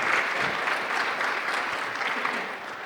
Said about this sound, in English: Please give a round of applause to everyone.